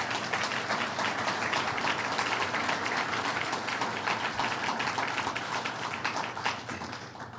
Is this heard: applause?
yes